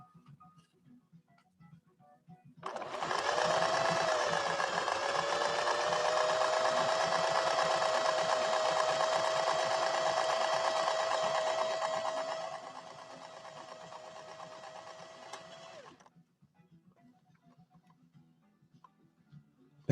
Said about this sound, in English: we're going to try sewing that same stitch, the FL, but this time I'll be less of a rebel and I won't set it quite as fine